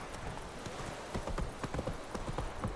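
Hooves of Roach, the horse in The Witcher 3, clip-clop in a quick, uneven rhythm at close range. They grow a little louder midway and carry on steadily, with faint speech underneath.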